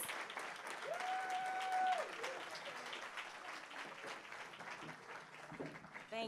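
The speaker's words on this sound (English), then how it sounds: "give Ms. Lewis the biggest round of applause that we possibly can" Audience applause at a tourism summit lunch greets the keynote speaker, sustained, crowd-sized clapping spread across the room for several seconds, with a brief tonal chime early on and voices faintly under it.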